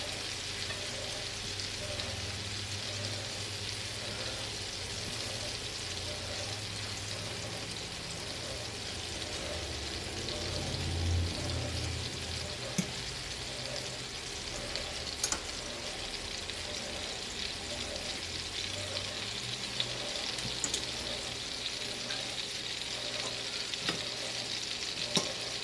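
Breaded chicken thighs and pieces placed skin side down fry steadily in hot oil, a continuous close sizzle and crackle with a brief louder burst midway, no voices.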